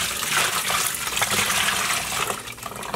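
Water gushes and splashes steadily as skeins of dyed yarn are rinsed, a loud continuous running-water sound with no speech.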